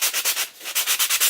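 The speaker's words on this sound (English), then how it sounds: "sand it with a sanding block here." Wood being hand-sanded with a sanding block for a chalk craft project, a close, loud rhythmic scratching of about eleven quick back-and-forth strokes with a brief pause midway, alone without talk.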